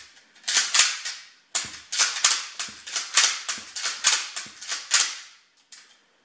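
An elastic-powered Nerf foam dart blaster fires a rapid series of sharp snapping clicks, about a dozen shots in quick irregular succession, close and loud with no talk.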